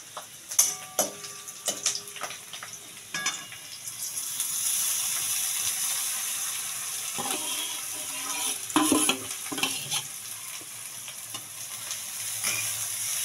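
Rice being stirred in a pan with fried cashews and raisins for basanti pulao, giving a steady close sizzle and hiss cut by repeated scraping spoon clicks and rattles, with no one talking.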